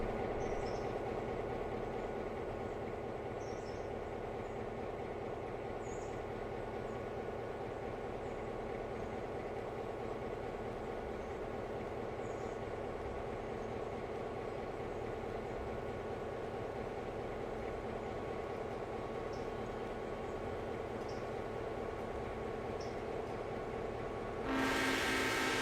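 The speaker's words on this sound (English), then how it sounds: "2 diesels pass each other." Two diesel locomotives pass each other in the train game RailRoader, a continuous low engine drone with a steady rumble over the whole stretch, faint high tones now and then, and a brief harsher burst near the end.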